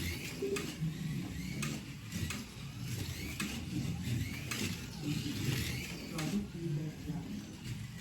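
An NSR Lola slot car runs test laps on a track, giving a steady whirring motor drone with faint clicks, fairly close and continuous throughout.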